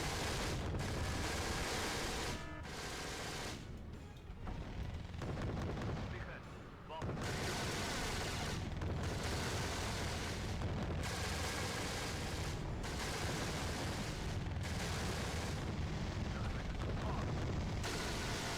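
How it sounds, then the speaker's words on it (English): Napalm artillery barrage in the war strategy video game Wargame Red Dragon, loud continuous booming and crackling blasts with brief lulls, dense and overwhelming throughout. "Some sort of napalm artillery."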